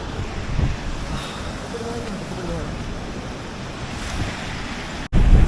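Steady rushing waterfall water fills the scene, a continuous broad roar with wind buffeting the microphone, ending in a brief dropout and a louder gust.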